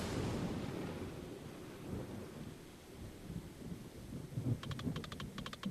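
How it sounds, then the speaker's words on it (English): A thunderstorm in a video game, with a loud rolling rumble of thunder over steady rain that fades and swells, then a run of rapid clicking taps near the end. "The storm reminds me of my childhood. Loud, unpredictable, and probably going to leave me with a lasting trauma."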